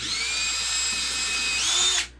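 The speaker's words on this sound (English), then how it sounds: "I'm going to take the drill down through those holes." A power drill bores down through pre-made holes in a small DIY table saw build, a loud close whine held steady for about two seconds, rising slightly in pitch before cutting off sharply.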